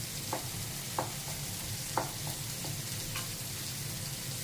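Bison meat fries quietly in a pan at breakfast, a soft steady sizzle broken by a few light taps and scrapes of a utensil.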